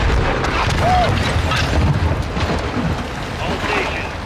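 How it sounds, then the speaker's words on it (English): An AC-130 gunship fires during Modern Warfare II gameplay, sending a run of heavy, booming blasts and rumbling impacts that overlap with talking voices. "That sounds like an AC-130, man."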